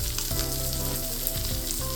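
A ribeye steak sizzles in a hot pan with a dense, steady crackle, close and fairly loud, and no voices over it.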